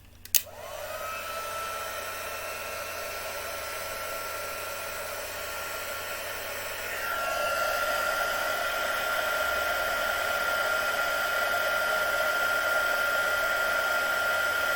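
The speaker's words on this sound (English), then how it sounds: "Heat up my heat tool." Heat embossing tool blowing hot air over embossing powder on a card, a steady loud whirring hiss that starts abruptly and continues alone, rising slightly in pitch and strength about halfway through.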